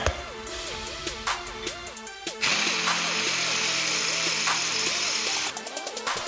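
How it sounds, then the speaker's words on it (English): A power drill cutting a countersink into a drilled hole in metal for a rear camshaft holder on a 2007 Honda Ridgeline 3.5, a close whining motor that revs up and down, with a sustained harsher grinding stretch in the middle. "I'll just throw in a little bit of a countersink."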